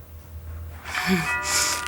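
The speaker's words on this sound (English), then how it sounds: "the doorbell, that must be our guests." A doorbell chimes in a TV soap opera scene: a short ringing tone starts about halfway through and sustains to the end over a quiet room background.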